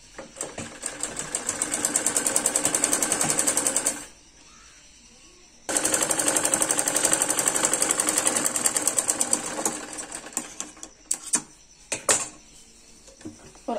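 A sewing machine stitches salwar fabric in fast rapid bursts, running steadily for about four seconds, pausing, running again, then breaking into short stop-start stitches near the end.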